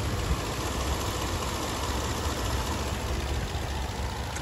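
Nissan Maxima 3.5 liter V6 engine with 89,000 miles idling, a quiet, steady, even hum with no revving, no voices.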